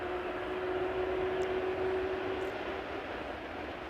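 An American Airlines jet lining up on the runway at Amsterdam Schiphol Airport, heard as a steady distant engine roar with a faint sustained whine, continuous and without voices.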